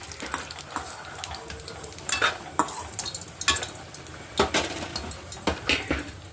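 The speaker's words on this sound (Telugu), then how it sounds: "టూ స్పూన్స్ ఆయిల్ వేసుకుందాము వట్టిమిర్చి వేసుకొని వేయించుకుందాము" Dried red chillies fry in two spoons of oil for a tamarind-leaf peanut chutney, a close steady sizzle with frequent spoon scrapes and metallic clinks against the pan, no voices.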